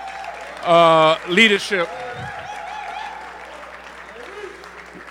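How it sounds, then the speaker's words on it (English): Audience applause at the eighth annual Rumble Young Man, Rumble event in Louisville, a steady wash of clapping running under a man's loud, close speech. "I want to give Kalu and Wes step forward a round of applause for their"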